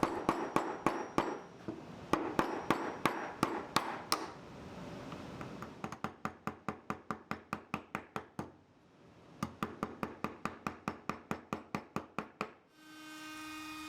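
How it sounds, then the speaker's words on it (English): A chisel is tapped down into the angled ends of a wooden piece for an aeolian harp, sharp close knocks in quick rhythmic runs with brief pauses, ending in a short scraping rattle. "Then the ends are chiseled down at an angle."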